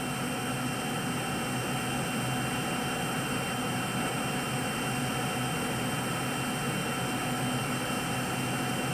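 An Air New Zealand airliner taking off from Auckland for Sydney, heard from inside as a loud, steady broadband roar of jet engines holding constant throughout, with no talk.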